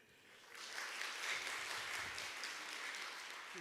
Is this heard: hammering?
no